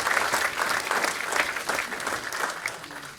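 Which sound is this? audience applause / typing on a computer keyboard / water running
audience applause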